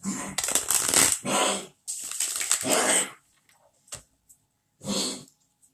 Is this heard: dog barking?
yes